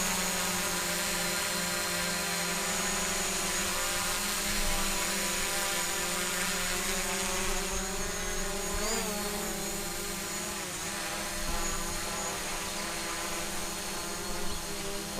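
A quadcopter drone flown with DJI goggles near a duck pond on a windy day: a steady, continuous high-pitched whine of spinning propellers with harmonic tones that waver and shift as it manoeuvres, loud and close throughout, no talk.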